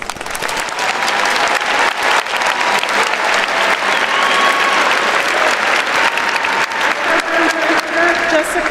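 Sustained audience applause fills a graduation ceremony hall, steady and dense throughout with a few faint voices mixed in.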